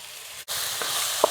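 Chopped tomatoes sizzle and hiss steadily in hot oil in a pan for rasam, a close, continuous frying sound with a brief break and a light clink of a utensil near the end.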